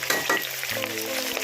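Onion fries in hot oil for a mutton curry, giving a steady, close crackling sizzle with a few stirring scrapes over a short moment.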